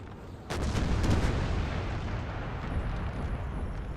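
A sudden roaring volley of gunfire in Napoleon: Total War, aimed at French cavalry, breaks out and rolls on as a loud, dense, sustained rumble of musket and cannon fire.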